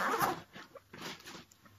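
A zipper on the expansion gusset of a motorcycle saddlebag is pulled in a few quick, close rasping strokes, loud at first and then in shorter bursts.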